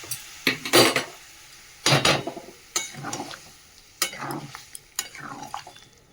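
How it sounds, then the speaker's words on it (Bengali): Hot water poured into a pot of browned potato curry (aloo dum) with its spices, heard as a few loud splashing, clattering bursts separated by quieter gaps. "একটু গরম জল দিয়ে দেবো।"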